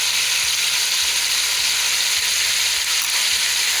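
Chicken sizzles and fries steadily in a hot pan with crushed green chilies and ginger garlic paste, a loud, continuous crackle with soft stirring scrapes and no voices.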